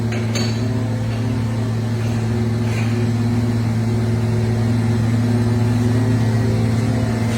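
A milk tanker truck's pump draws milk through a hose into the tanker on a dairy farm, giving a constant, loud, even mechanical hum with a slight rattle and no talk.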